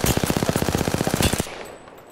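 Rapid automatic gunfire from a weapon in the Apex Legends video game, a steady burst of about twenty loud, evenly spaced shots lasting over a second, then cutting off into a fading tail and quiet.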